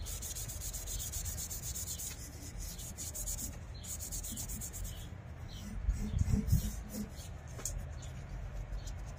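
Sanding a wood-turned piece on the lathe: steady, close rubbing abrasion runs throughout with a slightly louder, rougher stretch near the middle.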